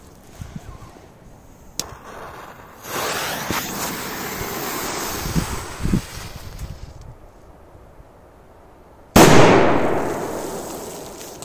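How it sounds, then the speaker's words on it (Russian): A sharp, loud Big Jumbo Bang firecracker blast bursts out after quiet crackles and outdoor wind noise, its roar trailing off over a few seconds. "Жесткий взрыв"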